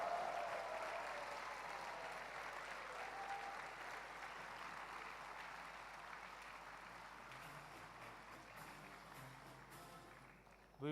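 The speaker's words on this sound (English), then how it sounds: "Let us applaud the graduated students" Sustained applause from a graduation ceremony audience honouring graduating students, dense steady clapping filling the hall for about ten seconds before tapering off at the end.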